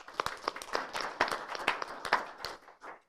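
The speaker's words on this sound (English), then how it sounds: "we'll give him a round of applause" A modest round of applause at a county board meeting for an absent Public Works nominee: a scattered handful of claps, moderately close and fairly sparse, fading after about three seconds.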